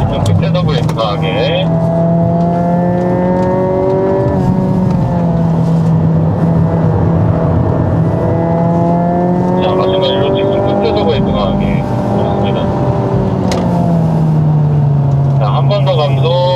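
Hyundai Avante N lapping Inje circuit, its engine droning loud and close with pitch sweeping up under acceleration and dropping under hard braking, while an instructor talks continuously over it from inside the car.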